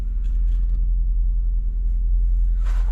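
Car engine idling with a deep, steady low rumble just after starting easily, close and continuous, with a brief rustle near the end.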